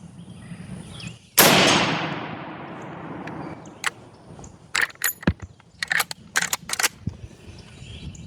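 A single sharp, loud crack from a Marlin 336 lever-action rifle fired toward a target about 70 yards off, followed by a decaying echo, then a run of quick, sharp mechanical clicks and clacks.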